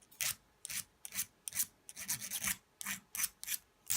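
A hand file rasps across enamel-coated copper in about ten short, even strokes, close and fairly quiet, each pass a brief scraping burst separated by small pauses.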